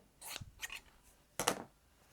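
Scissors snip through quilt fabric scraps: three short, quiet cuts, two close together and then one sharper snip, with no talking.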